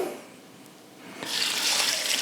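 Water pours from a tap into a pot holding rice for homemade dog food, starting after a quiet moment and then running steadily and fairly loud at close range.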